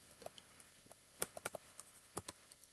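Keys on a computer keyboard tapped in a short irregular burst, soft clicks with a few sharper strokes, close and quiet with no voice.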